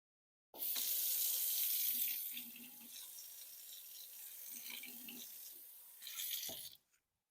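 A faucet turns on and water runs steadily into a sink, louder at first then settling into a softer stream before a brief surge and shutoff.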